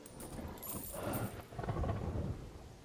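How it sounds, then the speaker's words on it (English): Steady rain falling at night, a continuous broadband hiss with low rumbling swells that could be distant thunder, moderately loud and unbroken, with no voices. "It's also raining,"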